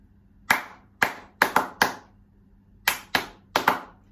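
Sharp hand claps tapping out a spoken-word rhythm, eight crisp claps in two uneven groups with a pause between, close and dry with nothing else heard.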